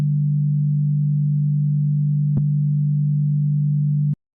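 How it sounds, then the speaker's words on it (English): A steady low test tone summed to mono after Haas stereo widening, holding a single constant pitch with one brief click partway through before cutting off abruptly. "listen to this after the Haas effect and how it sounded originally"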